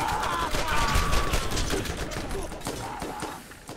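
Grenade explosions in Borderlands come amid a dense, chaotic mix of gunfire and blasts that stays loud throughout, with a player talking over the action.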